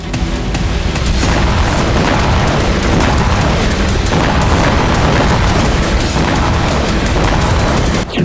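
Loud, continuous roaring blasts from drone strikes on Russian targets such as oil refineries and fuel sites, rumbling heavily for several seconds with sharp bursts layered through before cutting off abruptly.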